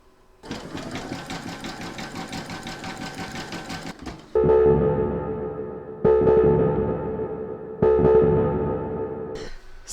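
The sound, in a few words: embroidery sewing machine satin stitching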